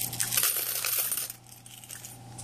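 Coins clink and jingle inside a large, heavy coin jar, a busy cluster of metallic rattles up close that fades to a softer scatter after about a second.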